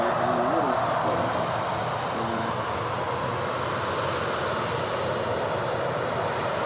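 An Aer Lingus airliner passes at Manchester Airport, its jet engines producing a steady, loud broadband roar that holds nearly constant throughout, with no speech.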